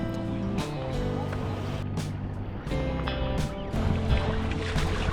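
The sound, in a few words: kayak paddling through water in central Stockholm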